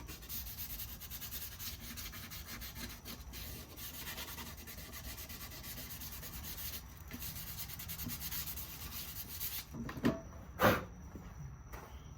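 Light hand sanding of a Permatrim outboard trim plate with 220-grit sandpaper: a steady, soft, continuous rubbing scuff close up, ending with a couple of sharper knocks.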